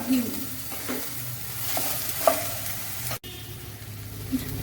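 Ridge gourd pieces are stirred and cooked in a hot pan for a Konkani chutney, giving a steady near sizzle with soft scraping strokes, a small clink or two and a momentary dropout midway.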